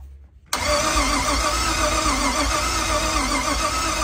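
Chevy G20 Nomad van with a swapped LS V8 cranks and catches abruptly after a moment of near silence, then settles into a loud, steady, rough idle close by.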